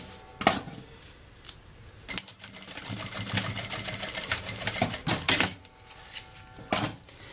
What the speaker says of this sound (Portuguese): passa uma costura com retrocesso, tá? Pra não soltar.